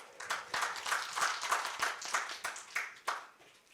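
A forum audience in a hall claps to welcome a speaker, a brief burst of scattered, uneven handclaps from a modest crowd that thins toward the end.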